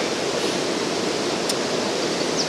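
River water swirling below a weir on the River Avon on a foggy morning, a steady, loud rushing wash that carries on without a break.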